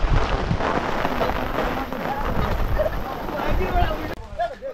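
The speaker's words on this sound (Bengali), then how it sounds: "ঝড় হচ্ছে, প্রচন্ড গতিতে ঝড় হচ্ছে, বিশাল ঝড় হচ্ছে" Heavy rain and storm wind roar during Cyclone Remal, a loud, dense wash of noise that persists throughout and cuts off abruptly near the end, with a voice speaking over it.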